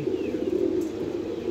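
Pigeons on a rooftop loft coo in a low, throaty rolling burble, close and steady for the whole moment, with no voices.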